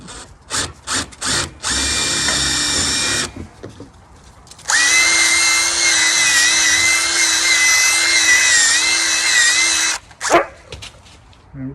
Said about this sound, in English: Drill another hole in this one.